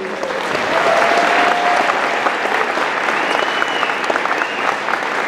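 An audience bursts into sustained applause at a country music seminar honoring a St. Jude patient, a dense, steady wash of clapping that swells early and holds loud throughout.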